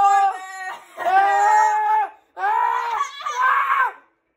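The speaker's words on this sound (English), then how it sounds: "I'm screaming so loud." A person screams loudly in a series of sustained, wavering shrieks, four long bursts separated by brief pauses, close and dominant, with no other sounds.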